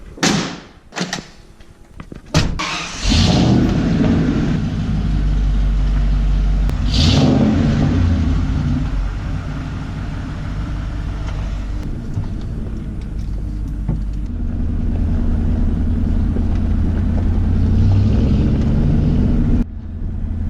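A Ford car with a faulty cruise control switch pulls away and drives along a road; after a door slam or two, a steady engine drone and road rumble run close and loud throughout, with no talking.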